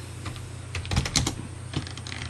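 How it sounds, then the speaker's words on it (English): Short burst of typing on a computer keyboard, a handful of quick close key clicks with a brief pause in the middle, heard alone. "if I type another print statement here"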